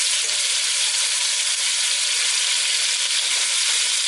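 Beef pieces browning in a pan with caramelised sugar and oil give a loud, even, continuous sizzle with no pauses and no talking.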